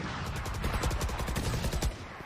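Rapid sustained gunfire in a competitive Valorant match, a steady stream of close, evenly spaced shots spraying for about two seconds with no pause.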